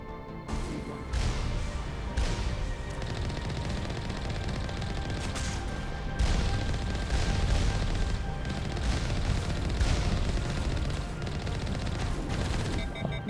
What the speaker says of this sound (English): That cannon certainly works rather well.